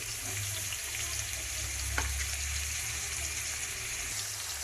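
Green chillies frying in hot oil for a prawn curry give a steady, faint sizzle and crackle that runs unbroken throughout, with no voices over it.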